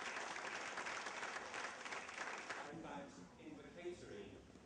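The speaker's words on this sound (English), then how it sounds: "Proud parents and teachers applauding their efforts" Proud parents and teachers applaud students at a Sanskrit speech competition at a London junior school, a steady round of clapping that thins out near the end as voices come through.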